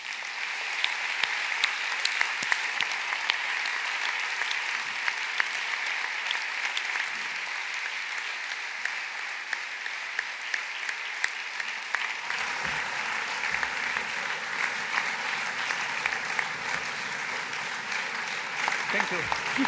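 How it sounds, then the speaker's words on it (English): Sustained audience applause for conference panelists at a morning session, a dense, steady wash of many hands clapping at an even level for the full stretch, thinning slightly toward the end. "a warm round of applause from everybody"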